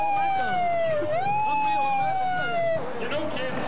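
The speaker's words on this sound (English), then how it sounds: "Turn on the sirens!" A loud wailing siren rises and falls continuously, close and dominant, with some voices and background noise breaking in near the end.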